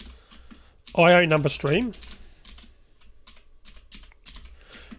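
Java code being typed on a computer keyboard, a run of quick, close key clicks that continues on both sides of a short burst of speech.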